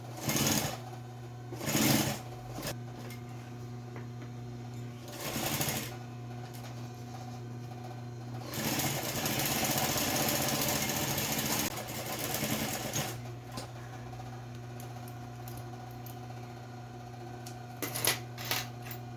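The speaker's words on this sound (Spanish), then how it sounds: "Acá ya voy cosiendo al milímetro." A sewing machine stitches a fabric multipurpose pouch in several runs, a rapid mechanical whirring and clatter close by, starting and stopping in short bursts and one longer steady stretch, with no speech.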